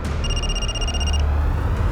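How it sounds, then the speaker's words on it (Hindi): A telephone in an indoor drama scene gives one electronic ring of about a second. It is clear and high-pitched over a low room hum. "कांस्टेबल घरात का फोन था"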